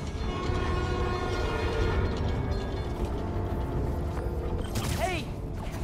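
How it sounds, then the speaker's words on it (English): A New York subway train in the video game Spider-Man: Miles Morales rumbles steadily and loudly with mechanical rail noise throughout. Near the end, a bright rising and falling tone sounds briefly over the rumble. "My trusty New York subway."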